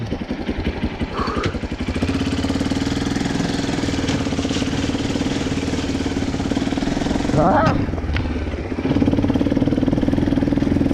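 A Viper motorcycle engine labours through forest enduro terrain, its throbbing mid-pitched drone steady and close, with revs swelling near the end and brief rider vocal sounds over it.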